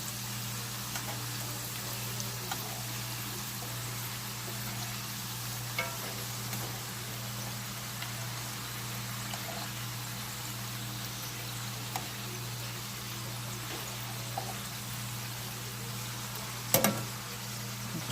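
Homemade chips fry steadily in a pan with a constant soft crackle and hiss, close and even throughout, with one brief clatter near the end.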